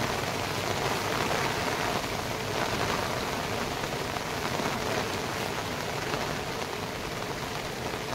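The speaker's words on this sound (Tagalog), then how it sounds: "isang maulan na araw" Steady rain falls on a wet day outdoors, a dense continuous patter and hiss on surfaces that holds evenly loud throughout with no voices.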